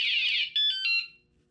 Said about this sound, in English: If it's moved again within that period, short period, the alarm will go off.